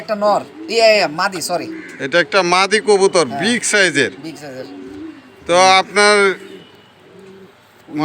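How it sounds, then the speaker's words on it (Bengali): Racing pigeons coo in repeated bursts, fairly close and loud, mixed with people talking in between. "এটা ভালো একটা কবুতর"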